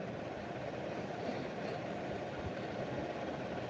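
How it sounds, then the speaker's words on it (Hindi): A newly launched tractor engine idles with a steady low rumble, moderately distant, continuous and fairly quiet, with no talk over it. "देखो नया नया ट्रैक्टर है, नया नया लॉन्च हुआ है।"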